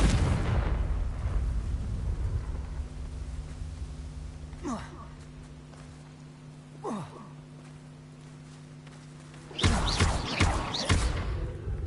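Fiery Confringo spell blasts from Hogwarts Legacy burst loudly at the start and again near the end, with a brief voice and softer whooshes in between over a steady low hum.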